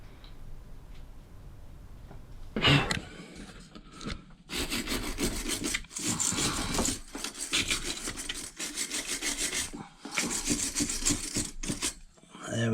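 Corroded battery terminal and nut on a boat starter battery being scrubbed clean, a steady rasping, brushing scrape in repeated bursts of strokes, close and fairly loud, with brief pauses between bouts and no talking.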